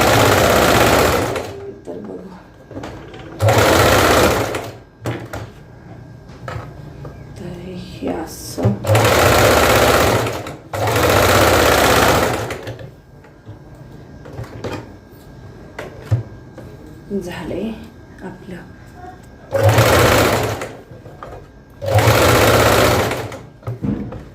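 A sewing machine stitches the lining of a garment near the neckline in several loud bursts of a few seconds each, separated by pauses where someone talks and handles the fabric.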